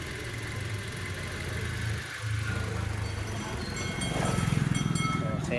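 A car engine idles with a steady low rumble, briefly dipping before a slightly louder, rhythmic chugging resumes.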